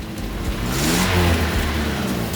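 A modified car's engine revs up, giving a loud, broad roar that swells and holds for a couple of seconds, heard close with no talking.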